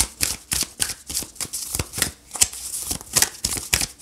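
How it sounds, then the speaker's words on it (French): Tarot cards shuffled and drawn in a monthly reading, giving a close, crisp run of rapid papery riffles and flicks in an uneven rhythm with no talking. "j'ai envie de tirer deux cartes avec quand même"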